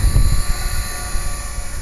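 A small, cheap RC toy helicopter whirs close by, its high, thin motor whine steady over a faint low rumble of rotor wash.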